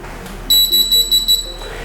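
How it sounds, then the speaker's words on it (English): Three short, high-pitched electronic beeps from a DC Blue Absolute gate receiver, evenly spaced and clear, with no other sound around them. "3 beeps, 3 flashes."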